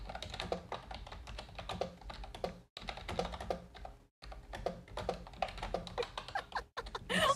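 Fast typing on a computer keyboard, a dense run of close, light key clacks in irregular bursts with two brief pauses, fairly quiet and without talk.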